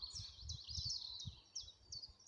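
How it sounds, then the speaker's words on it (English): Warblers such as chiffchaff and willow warbler sing faintly in a woodland of young birch, grass, bracken and bramble, a run of high thin repeated phrases over low rustling outdoor background. "the usual warblers are here, the chiffchaff and willow warbler"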